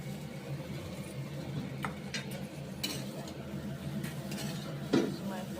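Chow mein being stirred in a pan, with soft scraping and clinking of a utensil against the metal over a steady low kitchen hum, plus one sharper knock near the end; no talking.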